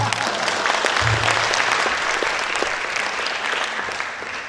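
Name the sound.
audience applause at a guest lecture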